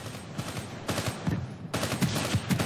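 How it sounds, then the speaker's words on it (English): Rapid gunfire from an XR2 rifle in Call of Duty Black Ops 3, bursts of close, loud automatic shots firing in uneven runs over steady game background noise. "Why am I shooting this dude in the fucking head with an XR2?"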